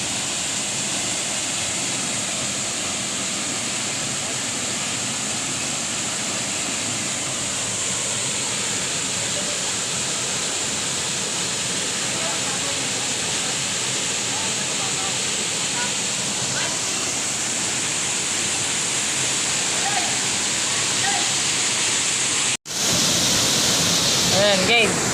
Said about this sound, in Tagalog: Ito pala yung falls.